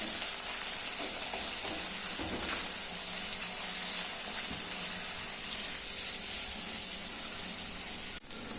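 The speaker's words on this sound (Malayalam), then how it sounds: "എല്ലാം കൂടി നന്നായി ഒന്ന് വഴറ്റിയെടുക്കുക." Onions and curry leaves sautéing in a pan for a milk-based mackerel curry, a steady close hiss of frying with occasional stirring scrapes, continuous and even throughout.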